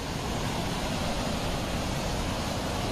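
Rushing Himalayan waterfall water at Tapovan on the Gangotri route, a dense, steady roar of falling water that stays loud and unbroken throughout, with no voices.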